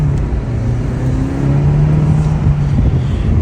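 A Honda Civic Si fitted with a Cobra PRL intake drones loudly as it drives, its engine note climbing and holding steady with intake rush, heard close and continuous without pauses.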